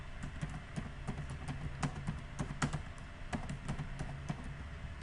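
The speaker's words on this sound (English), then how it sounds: "And here I'm typing" Steady typing on a computer keyboard, rapid close clicks and key taps in an uneven rhythm over a low background hum, with no voices.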